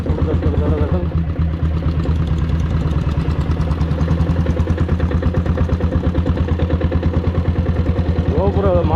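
A Royal Enfield diesel Bullet motorcycle engine runs loud and close, its rapid, even thumping beat continuing without a break and nearly filling the whole stretch.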